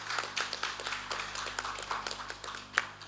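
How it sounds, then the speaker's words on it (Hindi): A crowd claps together to welcome the Governor at a formal public function, with a brisk, uneven patter of hands rising and falling over a few seconds and a faint hum beneath. "एक बार महामहिम राज्यपाल जी के लिए सब लोग ताली बजा के उनका स्वागत करेंगे"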